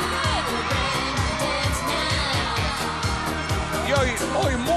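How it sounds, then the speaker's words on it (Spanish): A television dance-show studio audience cheers and whoops steadily under music with a pounding beat, while a host talks over the crowd. "Fuerte el aplauso para la diosa"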